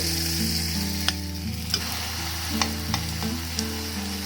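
Poa pitha batter frying in hot oil, a steady close bubbling sizzle over a low hum, with a few sharp spoon clicks against the pan and no talk.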